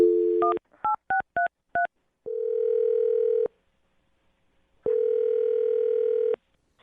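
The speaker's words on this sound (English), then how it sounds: "I'm going to dial her phone number right now" A phone number is keyed in on a touch-tone telephone: a quick series of distinct DTMF beeps, then two long, loud steady ringback-style tones separated by silence, with no voices.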